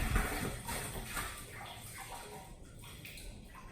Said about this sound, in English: So the hose is filling with water.